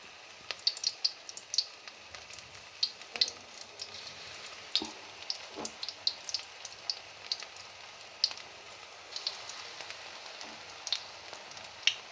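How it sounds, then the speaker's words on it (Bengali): Cabbage and egg pakora frying in hot oil in a wok, a faint, steady sizzle dotted with scattered sharp crackles and pops, with no talking. "তো আমি এখানে কড়াইতে গরম তেল দিয়ে দিয়েছি, তেল গরম করার জন্য। এখন আমি এটাকে ভেজে নেব।"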